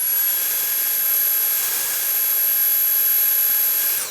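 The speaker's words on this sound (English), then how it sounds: "Watch the indicator, and this is going to get noisy" A Dyson V8 cordless vacuum cleaner running straight off a full charge gives a loud, steady high-pitched whine and airy roar, held constant for several seconds up close with no talking.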